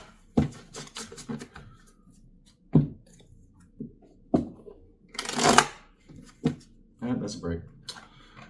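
Tarot cards being shuffled and handled in a series of short riffling and slapping bursts with pauses between them, close to the listener, and a voice speaking quietly in between.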